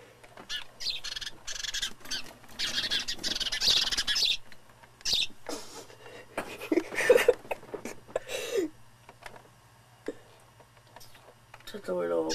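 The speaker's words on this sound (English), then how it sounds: "Birds. Birds. There's a bird." Small birds chirp and squawk outdoors in bursts of bright, scattered calls, mixed with rustling and handling noise close to the microphone and people speaking now and then.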